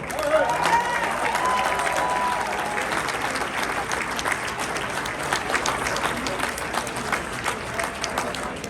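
A large crowd applauds Nigel at an America's Comeback Tour event, a continuous wash of clapping with some crowd noise, strongest at the start and continuing steadily.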